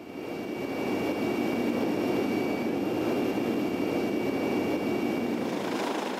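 A military helicopter approaching its landing point in snow during whiteout trials in Switzerland, producing a loud, steady engine and rotor roar that swells in at the start and holds constant, with no speech.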